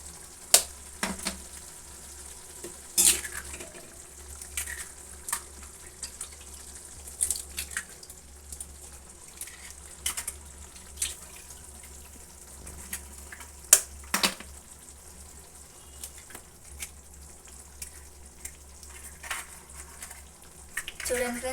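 Eggs cracked into a pan of tomato curry: sharp clicks and taps land every few seconds over a faint, steady sizzle.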